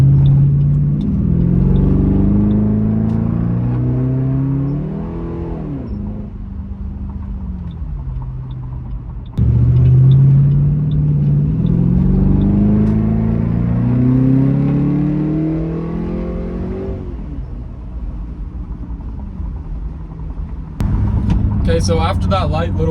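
A car engine running a custom SCT tune revs up through rising gears in two long pulls, loud and close, each easing off before a brief burst of talk at the end.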